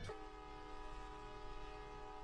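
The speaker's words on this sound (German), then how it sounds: "Fahre ich eben noch mal hier ein bisschen mit dem Zug." A train runs in the LandOfRails video game, a steady rumbling engine drone with sustained tonal hum from the locomotive, moderately quiet and continuous with no talking.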